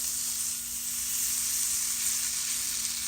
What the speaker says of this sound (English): Melt it into the pan.